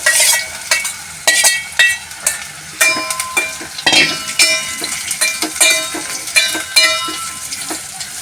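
Raw mango pieces fry in hot oil tempered with mustard seeds, whole red chillies, cumin, fenugreek and asafoetida for a pickle, giving a steady close sizzle broken by repeated sharp spoon-on-pan clinks as they are stirred.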